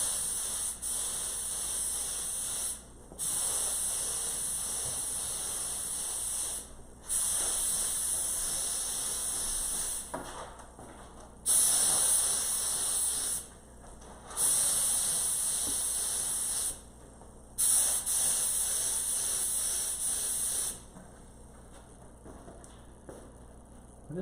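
Spray gun laying down a second coat of HOK clearcoat, a steady broad hiss in five long passes of a few seconds each, separated by short pauses, close and loud with no talking.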